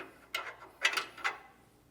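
Socket ratchet tightening a bolt on a front anti-sway bar of a 2023 Ford E-Series cutaway, three short clicking bursts close by in the quiet, with no talk.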